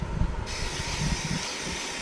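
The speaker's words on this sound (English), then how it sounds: "I like that it's in a aerosol spray can, because you can just" An aerosol can of Nerf PTF dry film lubricant sprays in a continuous close hiss that swells a little after the first half second and runs steadily to the end.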